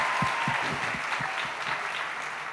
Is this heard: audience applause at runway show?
yes